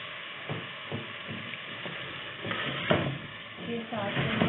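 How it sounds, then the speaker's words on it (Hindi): Yogurt going into a pan and being stirred while cooking kasuri methi malai chicken, with soft scraping and stirring strokes, light sizzling and occasional clinks of a utensil against cookware, fairly close and steady. "इसमें मैं और दही डाल रही हूँ।"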